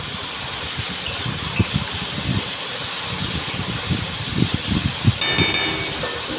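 Carrots and beans fry in a pan, giving a steady, close, hissing sizzle that runs unbroken, with occasional soft clinks and scrapes of a utensil on top.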